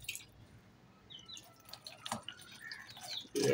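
Faint, sparse bird chirps amid soft dripping and trickling as caged birds are sprayed with cold water on a hot day, ending with a louder close splash.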